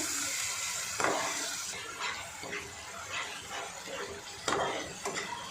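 Spices with turmeric and salt are stirred in a pan for chicken curry, with a spoon scraping and knocking against the metal in irregular strokes, close and moderately loud, with no talking.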